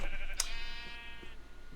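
Sheep in Minecraft give a single bleat near the start, a clear wavering cry that fades over about a second against a quiet background.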